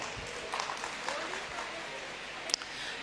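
Audience applause at a speech on Indian history, a broadband crackling patter of clapping hands that runs steadily through the short stretch, moderately loud and diffuse.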